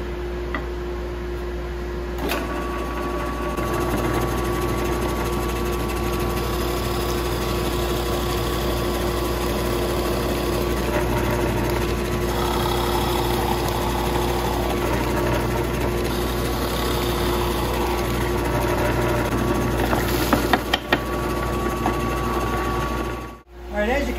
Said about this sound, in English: I'll turn the blower on, and you'll see how it pulls a suction on all the hoses.